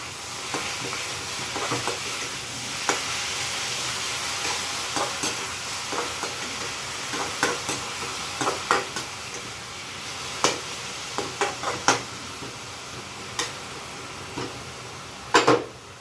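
Spinach saag sizzles in a pan with cumin and chili, a soft continuous fry broken by scattered scraping and stirring clicks of a utensil against the pan, no talk.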